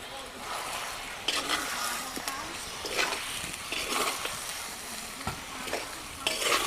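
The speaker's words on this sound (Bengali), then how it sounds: "মশলাটা ভালো করে একটু কষিয়ে নিয়েছি" Spice paste for a fish curry sizzles and crackles in hot oil, with repeated scraping stir strokes at an uneven rhythm over a continuous hiss; a low voice is heard faintly in places.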